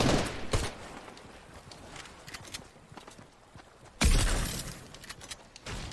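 Fortnite gunfire: scattered sharp shots and bursts across the span, with a louder cluster of rapid shots near the end, heard alone without talk.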